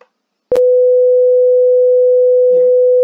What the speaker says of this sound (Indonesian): sedangkan kalau 500 Hz itu seperti ini.